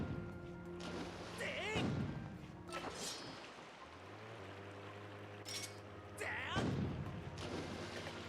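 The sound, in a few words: cannons firing in the video game's Sandship dungeon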